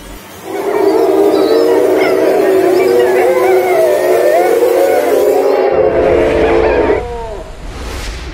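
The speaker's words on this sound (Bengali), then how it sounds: "তার সঙ্গে কুকুরটির আর্তনাদে ঘর যেন ফেটে যাবার উপক্রম।" A dog howls in anguish inside a room in a Bengali horror audio drama. The cry is loud, sustained and wavering for several seconds before it fades out.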